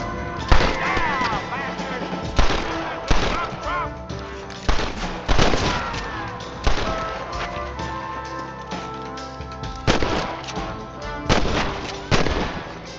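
Loud gunfire rings out in Red Dead Redemption, with repeated heavy shots and echoing bursts spaced a second or two apart over a busy game soundscape.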